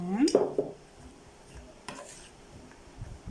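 Sitaw string beans get stirred into a butter mixture in a pan, with a sharp utensil clink at the start followed by soft scraping and shuffling, close and moderately loud.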